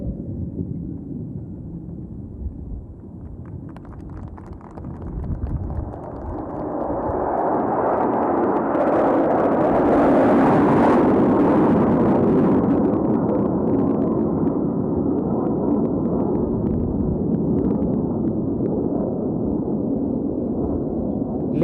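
Military jet formation roaring through a linear bomb burst at an air show, a loud broad rumble building after a few seconds and holding steady, peaking near the middle with a rushing hiss as the aircraft split.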